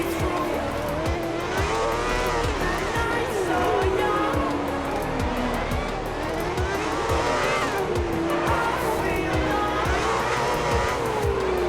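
F1 cars race around the Monaco street circuit in F1 2010, engines screaming at high pitch with rising and falling gear shifts, tire squeal and close passing cars throughout, loud and continuous.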